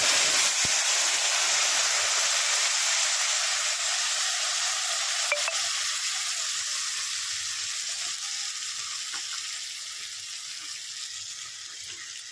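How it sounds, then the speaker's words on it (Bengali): Cumin seeds, dried chillies and ground spice paste sizzle in hot oil for a fish-head mung dal, a loud hissing fry that gradually softens over the course, with a few faint clinks and no talking. "এবার তেলের মধ্যে দিয়ে দেবো জিরে আর কটা শুকনো লঙ্কা, বেটে রাখা মশলাটা দিয়ে দেবো"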